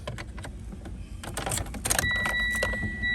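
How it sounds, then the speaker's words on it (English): Inside a 2017 Mitsubishi Lancer ES sedan, keys jangle close by and the ignition turns, followed by a low engine hum and chime tones from the dash, with no one speaking. "Just about to turn the vehicle on."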